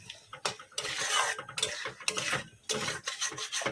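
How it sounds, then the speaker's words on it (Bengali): Potatoes cooking with salt and turmeric are stirred in a pan, giving irregular scraping and rubbing strokes in close bursts separated by short pauses, with no talking. "তো এখন ভালোভাবে কষে নেব"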